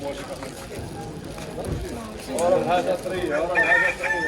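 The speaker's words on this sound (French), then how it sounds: "J'ai encore entendu des poulets." Hens and a rooster in northern Morocco cluck and crow amid a busy outdoor scene. Calls rise in the second half over background noise, and people talk nearby.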